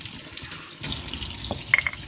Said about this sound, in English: I'm just going to rinse this off.